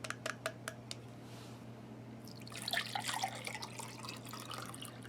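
Water is poured into a drinking glass during an MRE meal setup: a few quiet drips first, then a steady, close splashing pour over a faint background hum.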